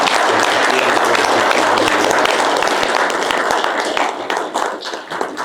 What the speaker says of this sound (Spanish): quisiera que me ayuden a darle un voto de aplausos a José.